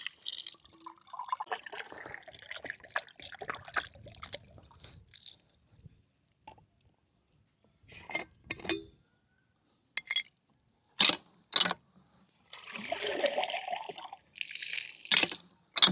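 Water splashes and drips in scattered, irregular bursts while something is rinsed by hand, with quiet gaps between the wet swishes and a longer run of splashing near the end.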